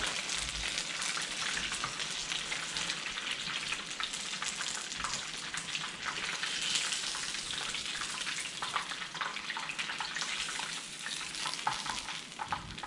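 Beer-battered fish fries in hot oil in a wok, a dense, steady crackling sizzle that carries on without a break from start to finish, close and fairly loud with no talking.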